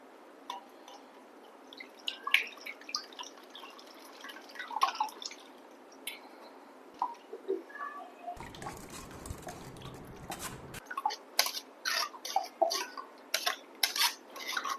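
Bael fruit juice drips through a thick kitchen strainer with fine holes, an irregular series of close, crisp drips and patters, with a few light clinks of utensils in a quiet room.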